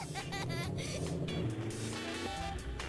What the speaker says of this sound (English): There's even real car sounds.